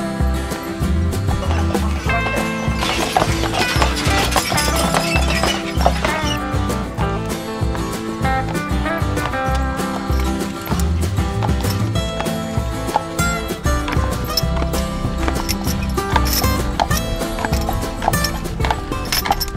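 Horse-drawn carriage on Mackinac Island, Michigan, with steady rhythmic clip-clop of hooves on pavement running the whole time, loud and close, mixed with dense background sound.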